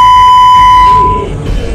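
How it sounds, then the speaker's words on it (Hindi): A steady, loud censor beep holds one pitch for about a second, then cuts off, leaving faint background noise with no speech. "आपको बीप की आवाज सुनाई दे रही होगी क्योंकि जो बात कही गई है हम सुना नहीं सकते"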